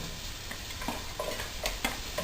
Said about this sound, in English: I've got my garlic and my olive oil sizzling away in there. Next thing I do is add in my shallots,